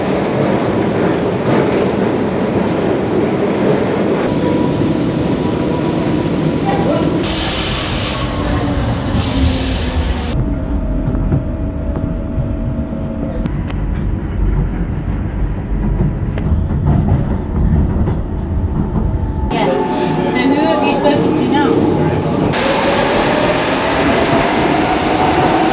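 A Docklands Light Railway train runs steadily from Bank to London City Airport, with rolling wheel noise, faint squeals and shifts in the cabin hum as it travels; no talking.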